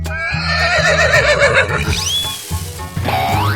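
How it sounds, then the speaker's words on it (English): In a 3D animal slide video game, a horse gives a loud, wavering whinny for over a second, followed by whooshing effects over a repeating game music loop. "Horse."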